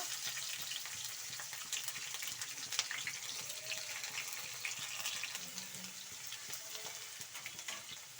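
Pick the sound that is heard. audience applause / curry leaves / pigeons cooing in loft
curry leaves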